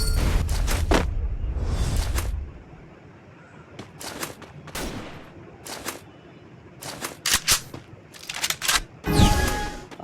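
Gunshots ring out in a lone wolf 1v1 shooting video game: sharp, close bursts and single cracks come in irregular clusters with quiet gaps between, over a low rumble at the start.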